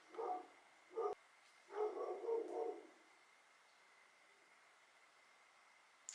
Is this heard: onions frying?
no